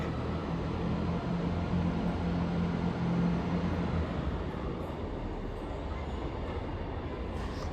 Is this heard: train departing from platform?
yes